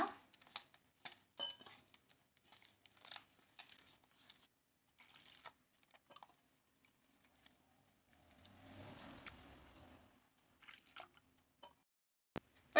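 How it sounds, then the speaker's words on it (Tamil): Semolina batter for rava uttapam being mixed by hand with water added little by little: soft, quiet, intermittent squishing and wet slaps, with a longer stretch of sloshing mixing near the middle. "கொஞ்சம் கொஞ்சமாக தண்ணி ஊற்றி தோசை மாவு பதத்துக்கு பிசைஞ்சிக்கலாம்."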